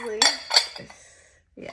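Ceramic stacking tapas dishes clink together as they are unloaded from a kiln, two bright close knocks with ringing tails, then quieter contact and a final shuffle; a voice is briefly heard at the start.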